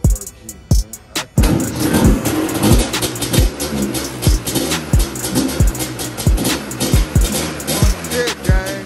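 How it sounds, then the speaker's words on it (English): A dirt bike motor fitted to a Yamaha YFZ 450 quad runs with sharp, repeated revving bursts and loud popping exhaust pulses, close and dominant. "We got a dirt bike motor on a YFZ 450, man."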